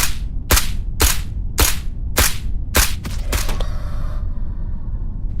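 Gunfire in the VR shooter Ghosts of Tabor: six or seven sharp, loud shots spaced about half a second apart, the last few coming faster, followed by a brief fading rattle and a short lull.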